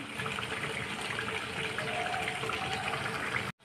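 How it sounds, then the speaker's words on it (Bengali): Water is poured into a simmering chicken curry to make gravy: a steady, close gushing pour that runs evenly for several seconds and then cuts off abruptly. "আমি এতে হালকা একটু জল দিব, হালকা একটু জল দিয়ে দিব যেন গ্রেভি হয়ে যায়"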